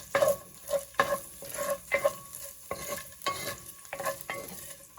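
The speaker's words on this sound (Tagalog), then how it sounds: "Igisa natin ang karne." Meat sautéing in oil in a pan for pinakbet Ilocano, with rhythmic stirring strokes roughly every half second over a crackling sizzle, close and without voices.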